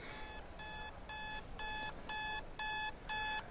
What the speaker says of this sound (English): It's interesting that like an alarm was going off.